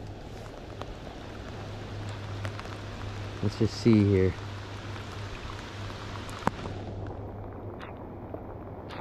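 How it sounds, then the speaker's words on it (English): Steady rain falls throughout during fall salmon fishing in Washington, a dense even hiss that is close and constant, with a brief spoken remark partway through. "the rain just picked up a lot here in the last couple of minutes"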